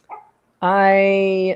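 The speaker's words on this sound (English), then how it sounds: "no barking, please." A small dog lets out one sustained, high, whining bark, loud and close indoors, right after a person briefly speaks.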